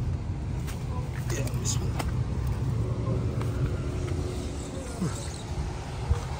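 A car drives steadily, its low engine and road rumble continuous throughout, with someone talking over it.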